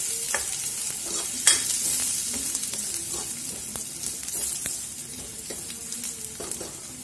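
Chicken curry fries in a pan while a spoon stirs it, a steady close sizzle running under repeated scraping strokes, with one sharper clack early on.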